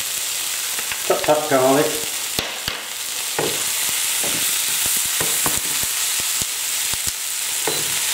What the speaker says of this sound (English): we've had this mixture in the pan, cooking for about 7 or 8 minutes. Just give it a quick toss around